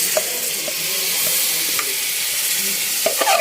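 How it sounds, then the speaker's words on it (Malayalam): Mango sautéing with chili and turmeric powder in a pan, a steady close sizzle with occasional scraping stirs of a spoon, no talking. "മുളക് പൊടിയും മഞ്ഞൾപ്പൊടിയും ഇട്ട് കൊടുത്തു എന്നിട്ട് നല്ല വണ്ണം ഒന്ന് വഴറ്റിയെടുക്കുകയാണ്"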